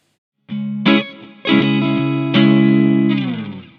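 Electric guitar chords ring out one after another, each strum sustained and washed in heavy reverb that lets the notes hang and slowly decay.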